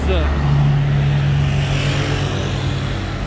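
Grey Ferrari 812 supercar passing on a Monaco street, with a steady loud engine drone and road noise that fades slightly toward the end.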